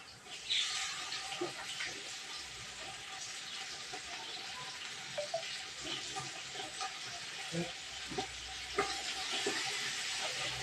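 Hot water from boiled chicken pours and splashes steadily from a pot into a sink, a continuous hissing rush with a few clanks of metal, no talking.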